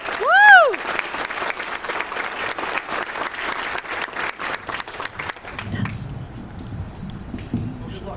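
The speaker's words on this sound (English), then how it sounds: "Give him a round of applause." An audience at a Hall of Fame ceremony breaks into a sustained round of applause, loud and steady throughout, with a brief whistle near the start and clapping thinning out toward the end.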